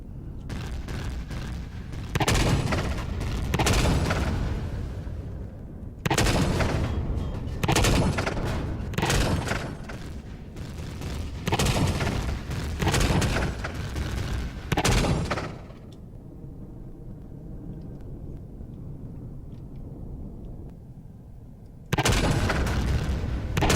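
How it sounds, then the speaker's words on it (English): Bursts of heavy gunfire in Empyrion: Galactic Survival rake the player during a station assault, loud rapid volleys separated by short pauses, with a quieter stretch of rumbling ambience before a final burst. "that is a lot of shots coming at me and hitting"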